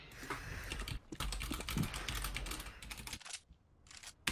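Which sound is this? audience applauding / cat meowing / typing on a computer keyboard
typing on a computer keyboard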